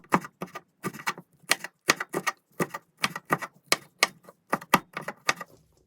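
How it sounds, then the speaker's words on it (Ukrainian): A knife chops bell peppers into thin strips on a cutting board, with sharp, distinct close-up taps in irregular quick bursts of two to four strokes, with no talk. "Три болгарських перця нарізаю невеличкою соломкою."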